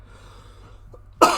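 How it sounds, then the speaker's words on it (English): A single sharp cough bursts out near the end after a quiet stretch, close and loud, with a rough throat-clearing quality. "If I cough, which I will shortly"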